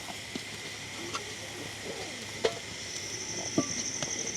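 Meat curry being turned over in a pot, a low steady sizzle with a few sharp clinks and scrapes of the spoon, quiet and close, no one talking.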